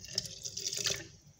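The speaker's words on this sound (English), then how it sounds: "So go ahead and add water" Water poured into a ginger drink mixture in a home kitchen, a short soft splashing trickle close by that tapers off, with no talk.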